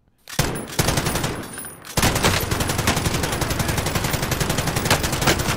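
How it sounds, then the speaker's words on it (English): Rapid bursts of automatic gunfire in a video game shootout, loud and close, with a brief lull near the start and then continuous rattling volleys to the end. "I'm being shot from the fucking building, dude."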